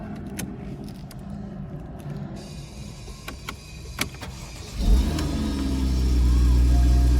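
A 2013 Porsche Boxster with its top down sits quietly with faint mechanical clicks, then its engine fires up close with a burst and settles into a loud, steady idle and rev.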